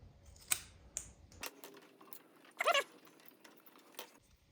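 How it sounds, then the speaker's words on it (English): Cutting the ends off a fuel tank hose on a Harley-Davidson 96-inch Twin Cam, a few sharp snips and clicks with a brief crunching cut, close and otherwise quiet. "I'm going to cut the ends off."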